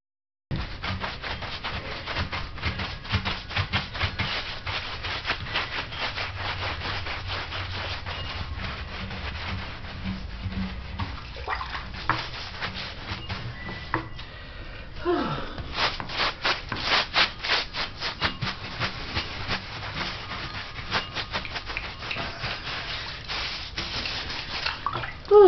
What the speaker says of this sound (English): Yep, scrubbing.